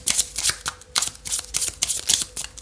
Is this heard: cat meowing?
no